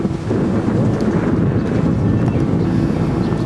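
Steady wind blowing outdoors among cherry blossoms in Japan, a loud continuous rushing roar buffeting the microphone, with no talking.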